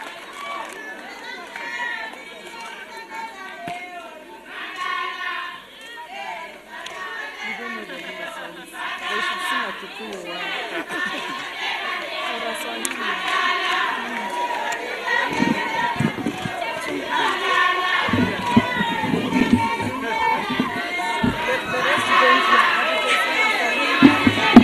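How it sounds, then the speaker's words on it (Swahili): A large crowd at the UDA Women Congress at Bomas of Kenya, Nairobi, greets a speaker's arrival, its cheering, shouting and chatter rising steadily to a loud, dense roar that continues throughout. "Makofi tumkaribishe."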